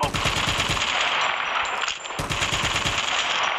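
Light machine gun in Call of Duty Mobile firing loud, rapid sustained bursts, a continuous stream of gunshots with a brief pause near the two-second mark before the fire resumes.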